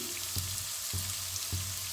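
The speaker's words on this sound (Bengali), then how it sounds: "আলুটা ভাজা হয়ে এসছে, আমি এর মধ্যে দিচ্ছি" Potatoes frying in a pan with a soft, steady sizzle, broken by three evenly spaced low clunks of stirring or the pan shifting.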